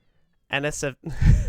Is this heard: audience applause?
no